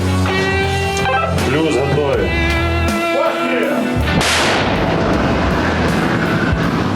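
An American Paladin self-propelled howitzer fires with a loud boom, followed by a sharp whip-like crack and rolling rumble, with voices and music-like tones underneath.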